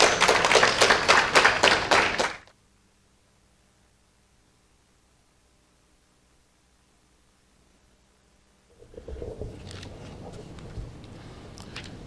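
Audience applause at the opening ceremony of a national event, a dense burst of clapping for about two seconds that cuts off abruptly, followed by near silence and then a faint murmur of room noise.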